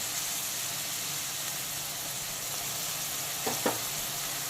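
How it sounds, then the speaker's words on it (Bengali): Onion and tomato fry in a pan with a steady soft sizzle, with a couple of brief clinks of stirring near the end. "কষিয়ে হালকা করে ভেজে নেব পেঁয়াজটা যাতে হালকা বাদামি কালার হয়ে যায়"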